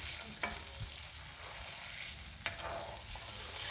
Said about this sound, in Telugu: కొంచెం మినప్పప్పు వేగినాక కొంచెం కలర్ మారుతుంది కదా, మినప్పప్పు వేగుతుంది